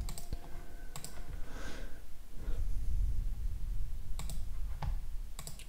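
A computer keyboard clicks with scattered keystrokes as API keys are typed, faint taps in small bursts over a low background rumble, no talking.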